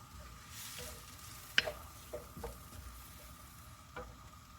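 Chinese celery and egg being stir-fried in a pan with a soft background sizzle and a few sharp scraping clicks of the spatula against the pan, fairly quiet, with no talking.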